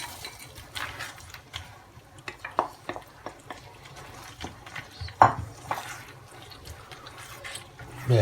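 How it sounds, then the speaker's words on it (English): A spoon stirs paella with peas and added hot water in a pan, giving soft scraping and wet sloshing sounds in an irregular rhythm, fairly quiet and close, with no talking. "stir it all up, make sure it's all correct"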